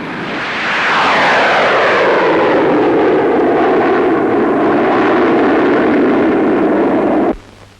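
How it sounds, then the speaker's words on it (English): A Meteor jet fighter fitted with two Avon jets roars past at an air show of the 1950s, with a loud sustained jet rush that builds quickly, sweeps overhead with a falling pitch, then cuts off abruptly. "The Meteor, fitted with 2 Avon jets,"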